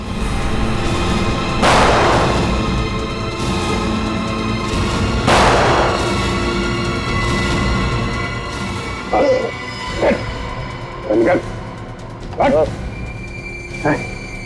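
Two loud, booming gunshots ring out several seconds apart in a TV crime drama scene, followed by a dog barking in short repeated bursts.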